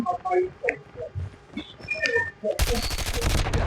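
Call of Duty gunfire erupts abruptly into a loud, dense burst after a stretch of someone talking over quieter game sounds.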